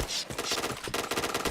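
Rapid automatic gunfire bursts rattle loudly and continuously in a first-person shooter match, the shots tightly spaced over a brief stretch.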